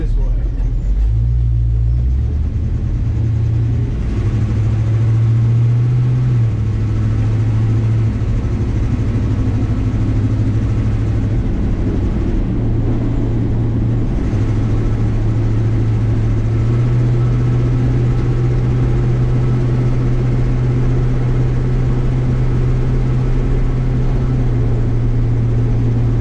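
A 1953 Chevy truck engine drones steadily from inside the cab, its low rumble dipping and sagging as the truck bogs down coming to a stop, with someone talking over it.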